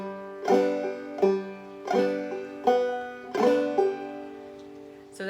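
Clawhammer banjo in G plays a beginner measure of Will the Circle Be Unbroken: bright plucked notes struck in a steady rhythm, each ringing briefly before the next.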